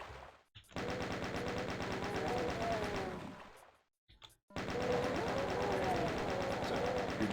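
Chain gun in the Doom mod Myhouse.pk3 rattles out long, loud, rapid bursts of fire, with a short pause after the first shot and a longer gap before a second sustained stream.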